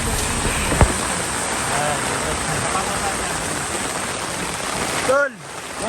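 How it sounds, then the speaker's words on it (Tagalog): Heavy rain pours steadily and loudly high on a mountain, a dense continuous roar that cuts off abruptly near the end as voices call out. "Bigla na lang siyang umulan ng ganito at sobrang lumalakas pa ng lumalakas yung ulan."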